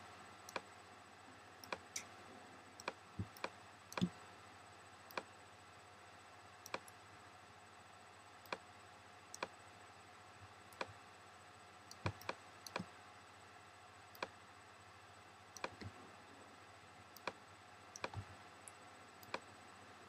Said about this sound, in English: And you basically go round clicking, making the mask